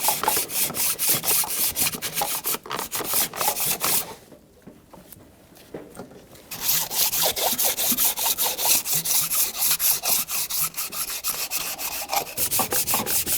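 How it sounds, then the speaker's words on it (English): Rapid back-and-forth scraping of hand sanding aluminum with emery cloth, cleaning up a part during exhaust manifold replacement on a 1997-2006 Jeep Wrangler 2.4L, close and continuous, pausing briefly midway before resuming at the same brisk rhythm. "I recommend a flat sanding block, and I got emery cloth, and I'm just going to clean it up."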